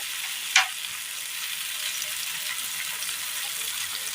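Tomatoes frying in a pan for a Kerala dish, giving a steady, close sizzle that holds evenly throughout with one brief sharp crackle near the start, no voices.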